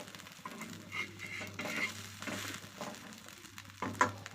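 Quiet, steady sizzling of food frying in a pan, with soft stirring scrapes and a light clink near the end.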